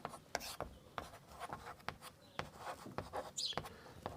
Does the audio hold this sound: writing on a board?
yes